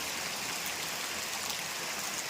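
Steady light rain falls in a village, a continuous even hiss of drizzle with no pauses, close and moderately loud throughout.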